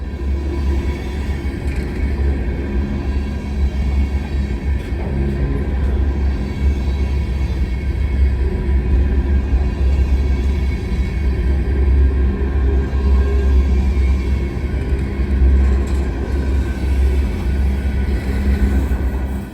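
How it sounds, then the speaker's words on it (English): A Union Pacific 98-car unit train of empty cars, pulled by three locomotives, rolls downgrade on a snowy mountain line. A steady, loud, low rumble of wheels and engines runs throughout with no voices. "This 98-car unit train has 3 engines, plenty of power to handle the empty cars down grade"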